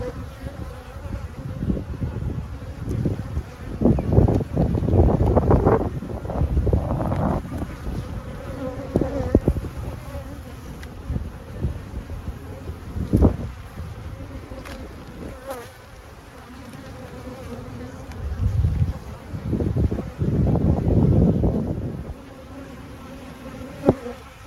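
Honey bees buzz around an open hive, a dense close drone with swelling, drifting hums as individual bees pass near, plus light wind noise.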